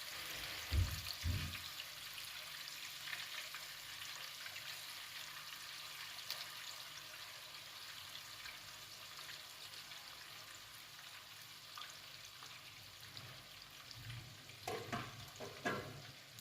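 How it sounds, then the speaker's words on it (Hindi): Kebabs shallow-frying in about a cup of hot oil for kabab biryani, a steady broadband sizzle running throughout with a few louder crackles and stirring knocks near the start and end, with no talk. "1 कप ऑयल का मैं डालूँगी और उनमें मैं अपने कबाबों को फ्राई कर लूँगी।"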